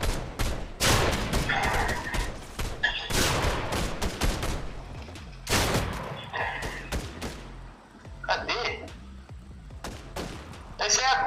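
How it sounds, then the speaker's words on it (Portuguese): Rapid bursts of gunfire ring out in the video game Fortnite, loud and crackling in quick succession, with players talking over and between the shots. "Alguém atirou no bot."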